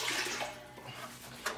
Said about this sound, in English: I'm gonna do one more quick water bath here.